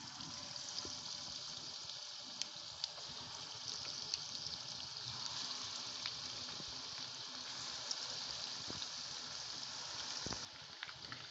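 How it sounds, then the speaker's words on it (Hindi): Batter-coated chicken fritters in besan and rice flour frying in hot ghee, a quiet, steady sizzle and bubbling crackle with scattered faint pops, close but soft. "अब इसको हम फ्राई करते हैं।"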